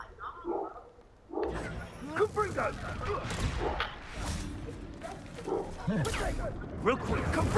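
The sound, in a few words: Confringo spell blasts in Hogwarts Legacy video game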